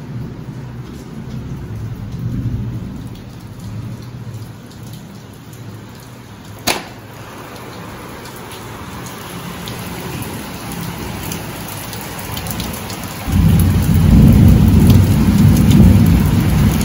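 Heavy rain pours outside a house during a thunderstorm, with one sharp thunder crack partway through. The steady downpour roar swells much louder near the end as a door opens onto the storm.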